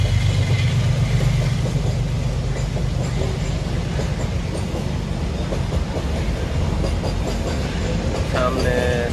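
A train rumbles past at a railway level crossing near Shamsheri station, a loud continuous rolling roar with clickety-clack of wagons for the whole stretch, a horn-like tone rising near the end.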